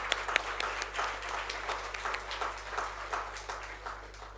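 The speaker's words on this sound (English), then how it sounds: "I think that applause should actually be much, much stronger" An audience claps faint and distant at a talk, a loose, uneven patter of applause over a constant low electrical hum.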